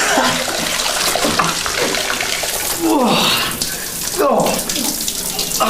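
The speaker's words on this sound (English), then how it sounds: "I'm getting all these jets of water coming all over me." Cold water jets hiss and spray steadily from a Victorian shower with the pipes built into its surrounding frame. The broad rushing noise surges and shifts as the spray strikes a person standing underneath, close and loud throughout.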